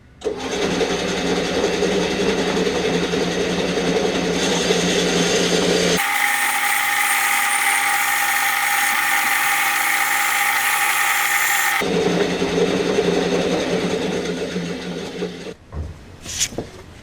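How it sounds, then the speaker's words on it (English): Bandsaw cutting through a subwoofer box panel, giving a steady close mechanical whine that shifts in tone partway through as the blade bites into the wood, then trails off into brief handling clatter; no talk. "Take it over to the bandsaw, cut that out."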